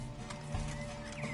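A horse in a game scene snorts and whinnies against a steady droning background, with a faint clop partway through, brief and mid-distance.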